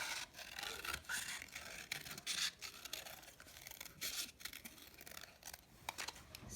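Paper pieces for a pizza craft being cut with scissors, giving a faint, continuous run of close snipping and scraping rustles with no voices.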